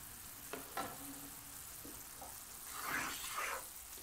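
Sugar melting in a pan for homemade caramel sauce sizzles with a soft, steady, fairly faint hiss. Occasional stirring scrapes and light knocks sit over it, with no talking.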